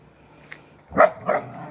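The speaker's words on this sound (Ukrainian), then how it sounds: "Не можна гавкати." A dog gives two quick close barks, loud against a quiet room.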